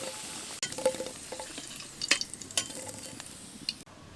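Potato pieces fry in hot oil while a spatula stirs them, a soft continuous sizzle broken by several sharp scraping and clinking strokes against the pan.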